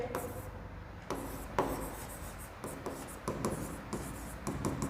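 A pen scratches across paper in short, repeated strokes while a math solution is written out, making close, dry rubbing bursts with brief gaps between them.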